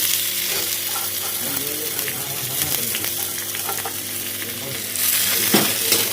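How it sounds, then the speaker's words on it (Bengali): Radish greens fry with garlic in a pan, giving a dense, continuous sizzle with occasional stirring scrapes. The hissing grows louder in the last second or so. "রসুন ভাজা হয়ে গেছে, এবারে শাকগুলোকে ছেড়ে দেবো"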